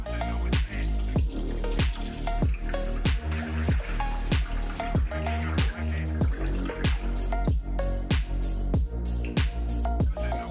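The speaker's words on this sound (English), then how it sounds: "Drain out the water." Water pours and splashes out of a pot in rapid, uneven gurgling bursts, close up and continuous.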